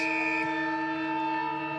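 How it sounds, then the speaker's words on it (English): A steady, sustained siren blares at the end of a quarter in an Australian football match between North Melbourne and St Kilda, holding one tone. "Siren sounds."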